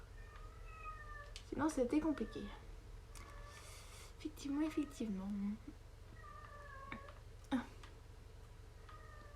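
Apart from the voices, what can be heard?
cat meowing and grumbling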